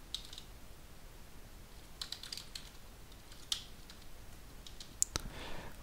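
Quiet, irregular keystrokes on a computer keyboard while writing code in an editor, with scattered clicks and short bursts of typing over a faint background hum.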